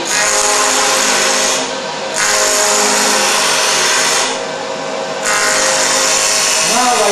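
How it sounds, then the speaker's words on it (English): A wood lathe runs with a loud, steady whine as a tool cuts the spinning wood, the cutting noise swelling and easing in two pauses before resuming. "Now I want to stop the lathe, and you can see what I did."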